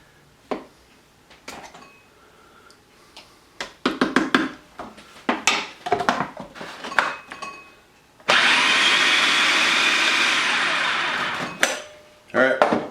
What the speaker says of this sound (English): Dig down in here, make sure it's all getting blended